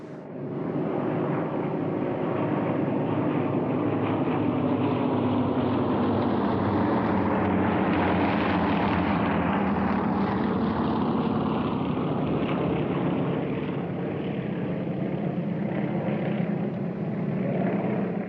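Yak-52 and Yak-54 aerobatic propeller planes of the First Flight Flying Club team perform at a Russian Air Force 100th anniversary airshow, a steady loud engine drone that rises and falls as they pass, with no talk.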